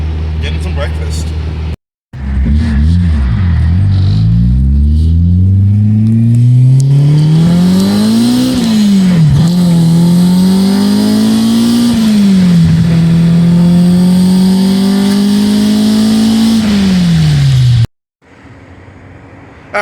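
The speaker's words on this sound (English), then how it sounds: "We're gonna leave the gas station, do a little quick pull." Car with a Honda H23 engine running on E85, pulling hard from a gas station. The engine note rises steadily through the gears with clear revving sweeps. It is loud and close and lasts most of the clip, with short gaps at the start and end.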